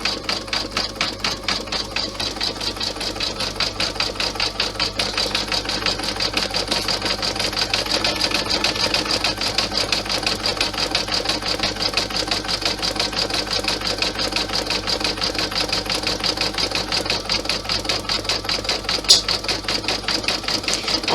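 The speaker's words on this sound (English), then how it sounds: "So all it's going to do now is do the satin stitch right the way around the edge." Embroidery sewing machine running a satin stitch around the edge of a vinyl clutch, a steady, fast mechanical rattling hum that continues unbroken and close at hand, with no talk.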